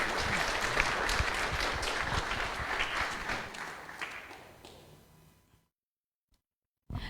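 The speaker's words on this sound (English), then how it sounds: "Let's give him another round of applause." Audience applause at a Sunday love feast following a class, sustained close clapping that gradually thins and fades away into silence.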